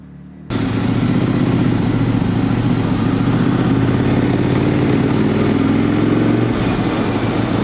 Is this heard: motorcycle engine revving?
yes